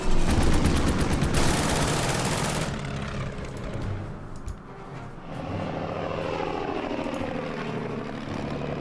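A bomber aircraft attacks in the war strategy game Order of Battle, set in a desert sandstorm during Operation Crusader: a loud, dense roar of engines and explosive fire fills the opening seconds, then settles into a sustained rumbling drone.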